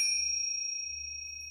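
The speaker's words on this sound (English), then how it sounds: "We'll be using these little bells." Small meditation bells give a single clear, high ring that sustains evenly and fades slowly, close by in an otherwise quiet room.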